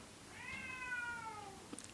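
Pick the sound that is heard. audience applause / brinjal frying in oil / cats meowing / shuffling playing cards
cats meowing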